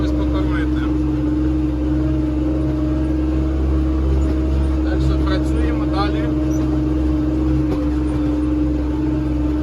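A tractor engine drones steadily inside the cab during root fertilizing of winter wheat with urea, a loud, unbroken low hum with a constant tonal whine and the air conditioning on full.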